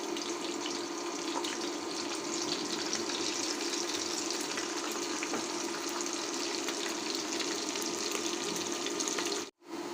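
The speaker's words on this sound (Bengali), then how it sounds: "দিয়ে দিলাম সয়াবিন তেল, দিয়ে দিচ্ছি পেঁয়াজ গোল্ডেন ব্রাউন করে ভেজে নিব" Sliced onions sizzle in hot soybean oil in a cooking pot, a steady, dense crackling hiss that holds evenly for ten seconds before a brief cutout at the very end.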